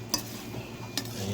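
A spoon stirs chicken tinola stew in a pot, with two light scraping clinks against the pot over a soft simmering background.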